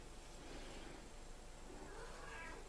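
A cat meows a few times nearby, the calls soft and somewhat muffled against a steady background hiss.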